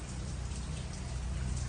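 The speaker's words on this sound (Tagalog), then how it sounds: "Ngayon umaambo na lang." Steady light drizzle falls outdoors after heavier rain, a constant even hiss of fine drops on surfaces, close and unbroken, with no voices.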